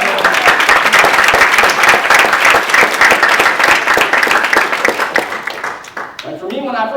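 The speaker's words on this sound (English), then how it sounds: "let's give that a round of applause" Loud, energetic applause from a seminar audience, dense rapid clapping that holds strong for several seconds, then thins out and gives way to a voice speaking.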